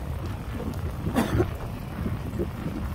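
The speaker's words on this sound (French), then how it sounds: "Parce que le vent souffle." Outdoor wind buffets a microphone during a bike outing, a constant low rumbling roar with a stronger gust burst near the middle, and no clear speech.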